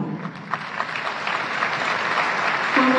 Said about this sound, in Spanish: Invitamos para poder brindar el aplauso nuevamente al solista en la presentación de esta primera parte